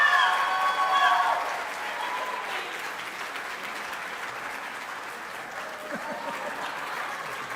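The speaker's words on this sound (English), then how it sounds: "I also want to give another round of applause" A round of applause at a high school 9-11 award ceremony, loudest at the start then settling into a steady, moderate patter of many hands clapping in a hall.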